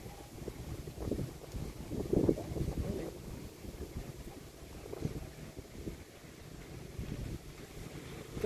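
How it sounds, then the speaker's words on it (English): Wind buffets a boat moving through a lotus pond, a rough steady rumble with gusty swells and microphone wind noise, loud and close throughout with no talking. "Now I am against the wind."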